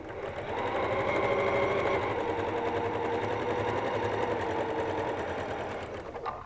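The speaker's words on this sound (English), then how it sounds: "by chain stitching instead of having the long edge or the tails of the thread each time I sew" A sewing machine chain-stitches quilt pieces in one continuous, even whir that runs for several seconds before slowing to a stop, close and clear.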